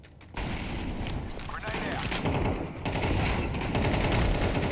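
Shotgun and rapid gunfire in a multiplayer shooter game, dense overlapping bursts with sharp booms and mechanical clatter, loud and continuous after a brief quiet start, with a player talking over it.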